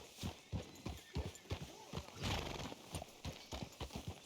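Horse hooves clip-clop steadily and up close on the ground in the Red Dead Redemption 2 game, a brisk repeating rhythm, with a brief snort or whinny partway through.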